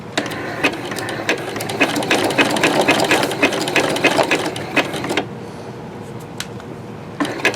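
Sewing machine stitching a rope bowl, running in steady continuous bursts of rapid clatter for about five seconds, then stopping into near quiet with a few faint clicks.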